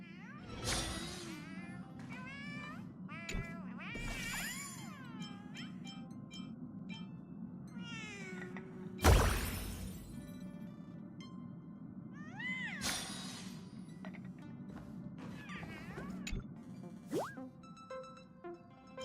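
A cat in Honkai: Star Rail meows several times in short, rising calls, spaced over a soft game background hum with occasional plops and one loud burst midway.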